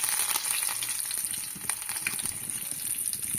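Curry leaves hit hot oil with mustard seeds, cumin and dried chillies for tempering, a loud continuous crackling sizzle with sharp pops throughout.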